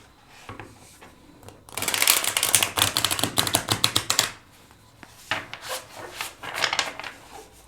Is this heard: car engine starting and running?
no